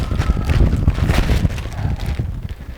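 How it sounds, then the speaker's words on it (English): Wind gusting on a 38-foot Sea Ray boat with a Bimini top, a steady loud buffeting rush against the microphone with low rumbling throughout, no voices. "let me get rid of this gust of wind"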